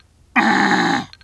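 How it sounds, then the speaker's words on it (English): A greylag goose call blown from the backside produces one close, raspy growl that holds for over half a second on its own. "I want to show you how you can use the Greylag Goose call,"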